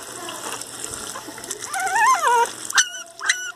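An adult Pinscher dog whines with rising and falling cries, then gives a couple of short yelping barks over running water while a puppy is bathed.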